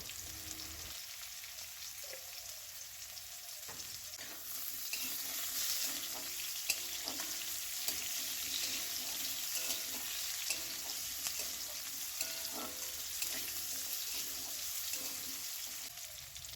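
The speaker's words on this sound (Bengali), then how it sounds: "হালকা ভেজে তুলে নিচ্ছি।" Potato pieces sizzle and crackle steadily in hot oil, lightly fried after being seasoned with a little turmeric, with no talk and a denser, louder fry from the fourth second onward.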